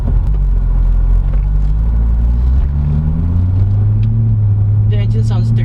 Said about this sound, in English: The engine sounds terrific, by the way.